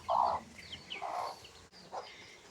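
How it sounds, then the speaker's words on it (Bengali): A chicken clucks in a few short bursts, moderately close, with brief pauses between calls and faint background noise. "এটা হচ্ছে আমাদের দুষ্টু আর এটি হচ্ছে আমাদের মুরগি"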